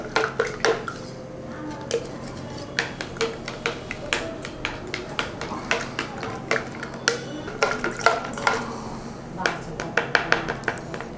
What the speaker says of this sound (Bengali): এবার এটাকে আমরা ভালো করে নেড়ে নেব, নেড়ে এটাকে মিশিয়ে নেব পুরো